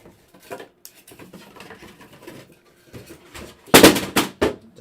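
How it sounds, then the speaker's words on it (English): A keyboard is knocked over among boxes of Bowman baseball cards, ending in a sharp, loud clatter of several quick knocks after a few seconds of faint handling sounds. "Down goes the keyboard."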